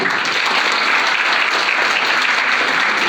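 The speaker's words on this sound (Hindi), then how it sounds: "एक बार जोरदार ताली" Loud, dense clapping from an audience at a school's annual exam-results prize ceremony, continuous and even throughout with no speech.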